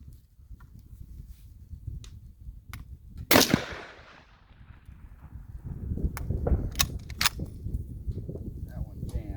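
A semi-automatic rifle fires hand-loaded rounds made with a Lee Classic Loader and IMR 4895 powder: one sharp, loud outdoor shot stands out among a few fainter clicks and handling noises, with people talking throughout.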